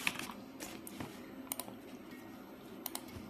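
Keys tapped on a computer keyboard while writing in Notepad on Windows 11, a quiet scattered run of clicks with brief clustered bursts over low room hiss.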